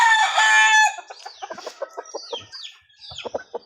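A wild junglefowl rooster crows loudly once, a long harmonic call, then follows with a run of quick, sharp clucks at close range, with nothing else competing.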